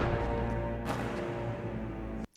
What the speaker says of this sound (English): That is the sound of the Mandalorian Death Watch guard being killed.